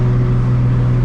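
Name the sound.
Toyota Supra MK4 1000+ HP engine and exhaust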